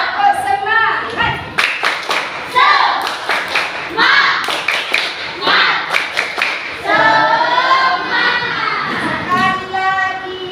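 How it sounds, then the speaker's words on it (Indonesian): A sixth-grade class performs a rhythmic clapping chant in the classroom, children shouting in unison between sharp patterned bursts of claps in quick grouped beats, loud and close. "Sekali lagi, tepuk semangat!"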